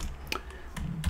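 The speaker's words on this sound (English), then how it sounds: "my typing is not good today" Quick, uneven clicks of a computer keyboard, a few keystrokes tapped close up in a short burst.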